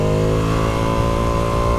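A Ducati Panigale V2 engine pulls hard along a wet straight, a loud continuous high-revving roar with rising pitch, close and dominant with no talk.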